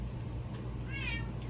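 A cat meows once, a short rising-falling call near the end, heard over a steady low background hum.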